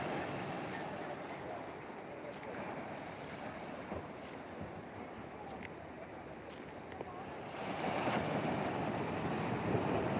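Sea waves wash onto the shore near a church at Thengapattanam, a steady rushing surf mixed with heavy wind buffeting the microphone, swelling louder toward the end.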